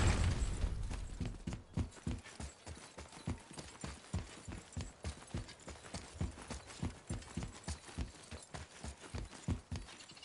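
Steady clip-clop of horse hooves in the God of War video game, a brisk even rhythm of close, distinct hoofbeats running throughout with no talk.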